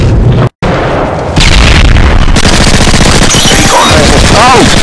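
Loud, dense gunfire from Call of Duty Modern Warfare 3 multiplayer, with rapid automatic bursts and booming blasts crowding the mix, a brief dropout, and excited shouting over the top.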